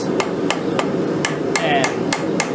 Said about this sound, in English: take my hammer and kind of just break up these edges, these sharp edges